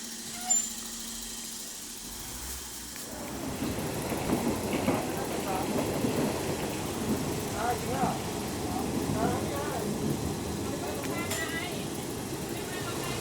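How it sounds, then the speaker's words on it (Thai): Rain falls outside a local passenger train stopped at or passing a rural station in Buriram province, Thailand, with windows shut; a dense, steady wash of rainfall begins after a few seconds and continues at moderate level, with faint background noise. "ตอนนี้ฝนตกยังเปิดหน้าต่างไม่ได้ครับ"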